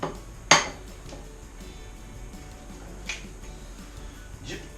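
Eggs being cracked and added to a bread pudding mixture in a bowl, a sharp crack near the start followed by a couple of fainter clicks, close and otherwise quiet.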